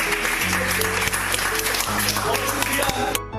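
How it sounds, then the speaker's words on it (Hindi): Audience applause at a public-speaking training program in Pakistan fills the room, a dense steady wash of clapping that continues loudly and then cuts off abruptly near the end, with talk mixed underneath. "और ये एक जोरदार तालियां बजा दें।"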